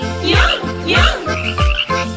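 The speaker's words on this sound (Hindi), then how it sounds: "1, 2 छोटे रंगीन मेंढक एक तने पे बैठे थे।" A cartoon frog croaks in a children's counting song: loud, rhythmic croaks, each dropping in pitch, repeat four times against the music.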